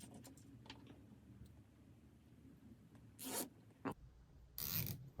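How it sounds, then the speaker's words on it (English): Cable ties on an Aufero Laser 2 engraver build are drawn tight in short ratcheting zips, two quick bursts and a longer pull close to the mic, with light handling noise between and no talk. "I'm going to put a couple of cable ties on there nice and tight"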